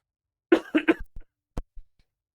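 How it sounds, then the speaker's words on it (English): A person gives a short burst of three or four close coughs, followed by a few fainter throat sounds in an otherwise quiet room. "My cough has not gone away."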